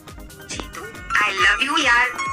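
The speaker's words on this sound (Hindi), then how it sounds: "तो फ्रेंड्स आपने सुना ये जो मेरी रिंगटोन" A custom name ringtone plays from a phone, a melodic voice-and-music tune that fills the room with bright harmonic tones, quieter at first and then louder and fuller for its second half.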